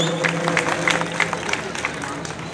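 A crowd at Aditya Patil's birthday celebration claps in a steady spatter of applause with a murmur of voices and a loud voice over it, the clapping holding at an even level throughout.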